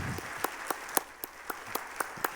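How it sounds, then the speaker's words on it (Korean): Applause from a church congregation at a Wednesday dedication service, heard as sparse, scattered individual claps with sharp spaced peaks over a steady background hush. "뜨거운 박수로"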